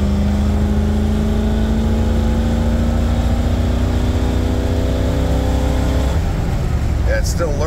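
A car with a fuel-injected 460 engine pulls hard in third gear from about 2,000 RPM, its loud, steady engine drone climbing before it backs off near the end.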